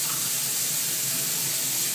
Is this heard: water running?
yes